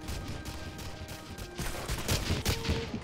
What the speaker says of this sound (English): this Car 98 has been turned into a automatic rifle.